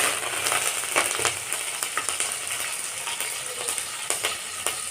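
Green chillies and curry leaves sizzle in hot oil for an okra stir-fry, a close, steady crackling hiss broken by sharp pops and spits throughout, with no voices.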